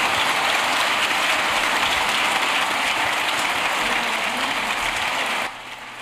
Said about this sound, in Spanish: Mira qué ovación tan bonita.